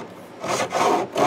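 A file rasps back and forth across the binding on an acoustic guitar's edge, rounding it over in three close, scratchy strokes.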